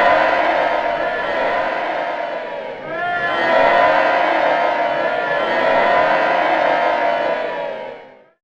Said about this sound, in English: The sound of people cheering is not constant